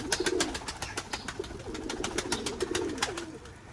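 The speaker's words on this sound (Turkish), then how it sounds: "Kuşları da kapatma zamanı geldi." Pigeons coo in a loft in low, rolling, repeated calls close by, along with scattered sharp clicks and rustling from the birds moving around.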